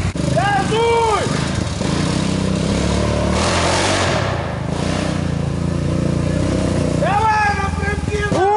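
A 250cc motorcycle engine roars loud and close, rising and falling in sharp revs at the start and end with a sustained raspy drone between, while people shout over it.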